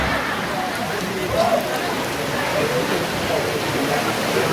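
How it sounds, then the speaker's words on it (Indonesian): Steady rain pours down in a dense, continuous hiss, loud and unbroken, with faint voices in the background. "Hujan lagi."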